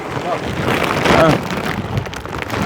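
Strong wind buffeting an outdoor spot as a storm approaches in early March, a loud continuous rushing roar over the microphone that swells and eases throughout.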